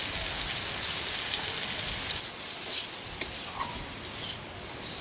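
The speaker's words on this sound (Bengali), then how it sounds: "তেলে কুমড়ো ভাজা হয়ে গেছে" Pumpkin pieces frying in oil in a home kitchen pan, a steady dense sizzle with faint crackles and occasional stirring scrapes, continuous and close throughout.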